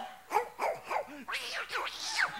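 A dog barks and yips in a quick string of short, whining barks, moderately close and fairly quiet, with a couple of louder bursts toward the end.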